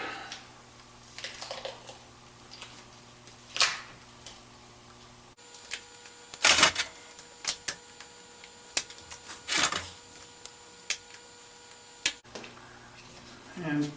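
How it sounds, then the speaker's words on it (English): Duct tape being peeled off a home-made concrete dumbbell mould gives a series of sharp crackling rips and tearing bursts at close range, separated by quieter handling noises. "Now remove my duct tape."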